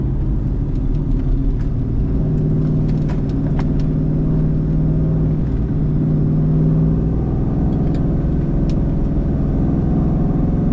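A 1997 Mustang Cobra's engine hums steadily with low rumble as the car rolls through a long sustained turn on a roundabout, no talking, even and close.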